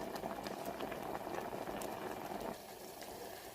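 Vermicelli boils in about one and a half glasses of water for a sweet payasam, making a steady, close bubbling hiss that eases off slightly partway through. No one talks.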